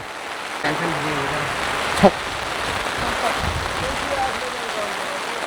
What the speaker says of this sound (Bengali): মানে মুষলধারে বৃষ্টি পড়ছে